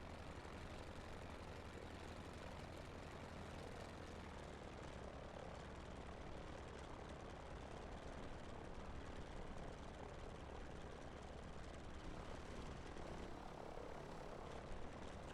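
An aircraft engine drones steadily while the plane taxis along a narrow runway with ditches on both sides in a flight simulator game, a constant propeller hum with no talk.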